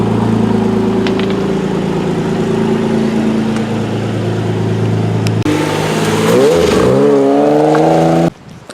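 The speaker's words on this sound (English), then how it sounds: "See how the new exhaust sounds." A Nissan 350Z with a new exhaust and a freshly installed Tomei differential drives figure eights, its engine droning steadily and loudly before the pitch rises and swings through revs, then cuts off abruptly near the end.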